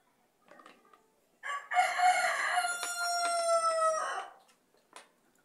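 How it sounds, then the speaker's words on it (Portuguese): A rooster crows loudly and close by in one long drawn-out call, with a few softer clucks and noises before and after. "É muita música de galo"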